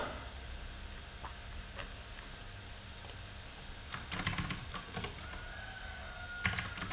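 Fingers tap on a compact 60% computer keyboard, sparse clicks at first, then a quick burst of keystrokes and a few more presses, close over a low steady room hum.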